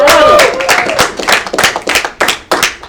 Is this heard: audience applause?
yes